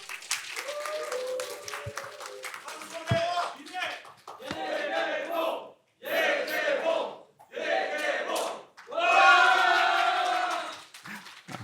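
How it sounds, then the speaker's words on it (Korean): At a Korean public HRD teaching contest, a crowd of new employees greets a lecturer with clapping followed by loud, rhythmic group shouts and cheers in separate bursts, with short pauses between them. "큰 박수로 맞이해 주세요."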